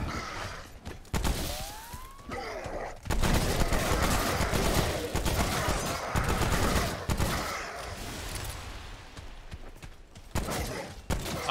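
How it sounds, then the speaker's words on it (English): Machine gun in Remnant: From the Ashes, firing in long rapid bursts of loud cracks with short pauses between them. "so this is a machine gun"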